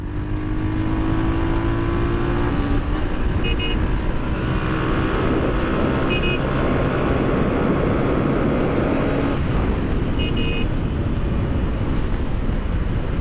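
A Lifan KPR 165R motorcycle engine while riding, a loud sustained drone with steady wind rush and slight pitch shifts throughout.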